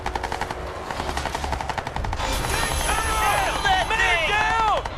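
Rapid automatic gunfire in the video game Crysis 2, bursts of rattling shots over game audio, with sweeping electronic whines and effects rising in the second half.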